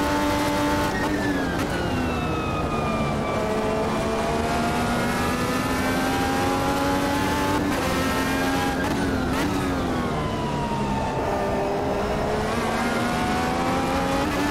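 A race car accelerates in the Automobilista 2 sim racing game, its engine note climbing and dropping through repeated gear shifts, loud and continuous for the whole stretch.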